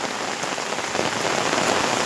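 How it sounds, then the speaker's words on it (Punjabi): Heavy village rain pouring steadily onto streets, a dense, loud, unbroken hiss of drops with no voices. "ਬਹੁਤ ਹੀ ਜ਼ਿਆਦਾ ਮੀਂਹ ਪੈਂਦਿਆ ਜ਼ੋਰ ਨਾਲ"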